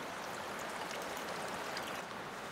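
A mountain stream flows steadily nearby, a continuous broadband rush of water with a light bubbling texture that holds an even level throughout, with no voices.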